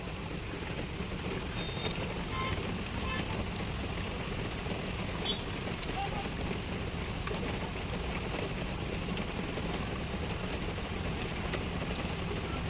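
Heavy rain pours steadily and loudly, a dense broadband wash with no clear pauses, while a vehicle engine idles underneath; no one speaks.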